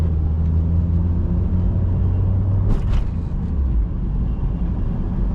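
Engine of a 2008 Perodua Myvi 1.3 EZ automatic car running steadily at close range, a low continuous hum with a brief higher-pitched swell in the middle, no voices.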